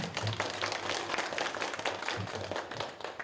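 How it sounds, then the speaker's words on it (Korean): Audience applause at a museum exhibition opening in a basement gallery: a short, fairly faint burst of scattered clapping from a small crowd that continues for a few seconds, with no talking. "박수 한번 부탁드리겠습니다"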